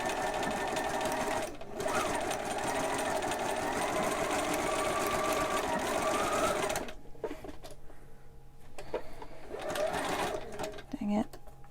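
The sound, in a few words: sewing machine stitching a fitted face mask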